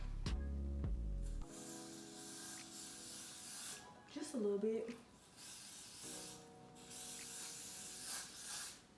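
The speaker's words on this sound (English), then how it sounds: "Actually, I'm gonna spray some." An aerosol can hisses in a few short bursts, close by, with a brief spoken remark and some rustling in between.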